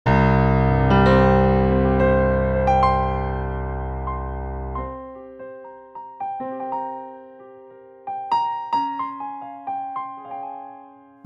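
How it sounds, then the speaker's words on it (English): A Yamaha S90 ES piano sound plays a dense sustained chord that decays, then lighter single notes and small chords ring out with gentle reverb. "Let's play this beautiful Yamaha S90 ES piano."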